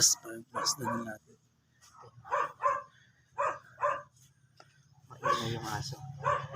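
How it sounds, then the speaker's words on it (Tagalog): A noisy dog barks repeatedly in short yaps and whimpering yips outdoors at a roadside location, mixed in with someone talking nearby. "Maingay yung aso."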